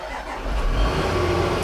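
A cheap auction Range Rover with a suspect battery turns over and catches, the engine rising from a low crank into a loud, steady idle close by.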